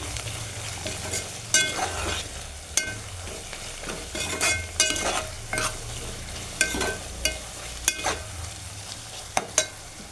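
A utensil stirs and mixes food in a cooking pot over medium heat, giving repeated scraping strokes and knocks against a soft, steady sizzle, close up with no voices.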